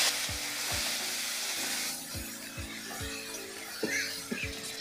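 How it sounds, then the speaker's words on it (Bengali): Curry of rohu fish and taro stirred in a pan once the lid is lifted: rhythmic low clinks and scrapes of the spoon repeat every half second over a steady sizzle. "আর ঢাকনাটা খুলে আবার একটু নেড়ে চেড়ে দেবো।"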